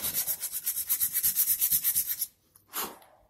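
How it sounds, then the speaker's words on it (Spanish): Sanding a repaired melamine surface smooth by hand: about a dozen quick, rhythmic back-and-forth rubbing strokes close up, then a pause and one last short scrape. "Vas a lijar hasta que quede totalmente liso"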